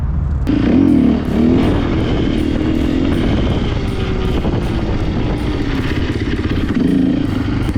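Yamaha TTR 120 enduro motorcycle ridden hard, its small single-cylinder engine droning steadily with rising and falling revs across the whole stretch, loud and close, with no voices.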